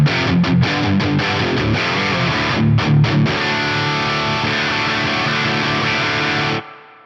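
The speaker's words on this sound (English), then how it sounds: "I'm going to hear more of the reverb as I play up high." Electric guitar played through a Fractal FM3 with a wide, constant reverb wash, notes ringing and blending together, ending in a fading tail after a sudden stop.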